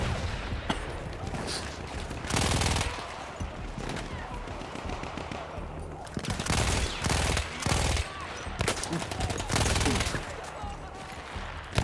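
Battlefield 1 game gunfire, repeated bursts of shots at irregular intervals with loud clustered volleys, heavy combat noise under occasional talk.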